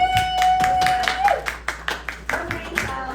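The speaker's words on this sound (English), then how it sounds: "we can give her a round of applause" Scattered hand claps from a small crowd at a pop-up upcycling event, sharp separate claps over about three seconds with a steady tone ringing underneath and faint voices mixed in.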